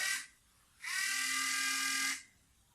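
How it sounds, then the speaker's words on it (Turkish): A small motor in an automatic sensor liquid soap dispenser buzzes briefly, then runs again in a high-pitched whir for just over a second before cutting off, close and fairly quiet. "Motor sesini duyuyorsunuz."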